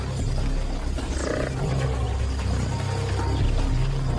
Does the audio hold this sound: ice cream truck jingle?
no